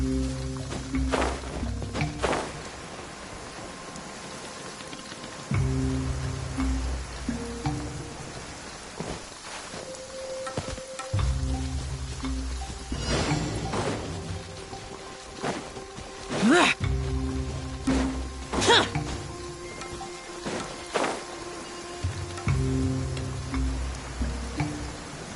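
Steady rain falls in a video game while a character's voice lines, footsteps and scattered thuds and combat effects play over it throughout.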